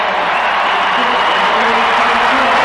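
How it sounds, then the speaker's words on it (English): A stadium crowd cheers during the women's 4x400 m relay at the 2001 World Athletics Championships in Edmonton, a steady, broad roar that swells slightly and carries on without a break. "you hear the cheers of this crowd"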